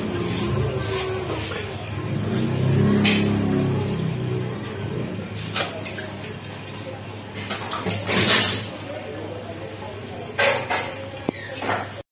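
Water splashes and trickles onto the edges of freshly grouted floor tiles in bursts, with scraping and clinking in between and a faint voice now and then.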